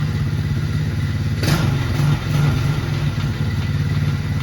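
A pink Tao Tao ATV that sat for years fires up and runs, its small engine idling with a steady, close, loud putter. There is a brief revving surge partway through and no talk.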